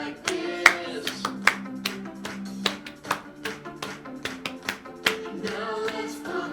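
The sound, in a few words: hands clapping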